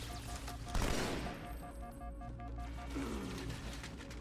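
Rapid automatic gunfire in the first-person shooter Halo 2 on Legendary difficulty, a burst of loud close shots followed by sustained firing and electronic weapon tones over a continuous game soundtrack, with no talking.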